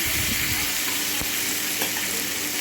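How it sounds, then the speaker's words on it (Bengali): Ginger, cumin and green chilli paste with chilli, turmeric and coriander powders sizzles in hot oil alongside potatoes and vegetables for a rohu fish curry, a steady close frying hiss with light stirring scrapes throughout. "তো মশলাটাকে দিয়ে ভালো করে কষিয়ে নেব"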